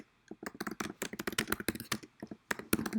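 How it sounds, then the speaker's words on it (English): Fast typing on a computer keyboard while writing in Word, with a dense, irregular run of close, crisp key clicks and brief pauses, heard alone. "And then you'll start typing."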